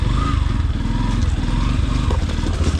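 A 2022 Yamaha FZ-S Deluxe motorcycle being ridden, its engine holding a loud, steady, close drone with a slight rumbling pulse throughout, and no talking.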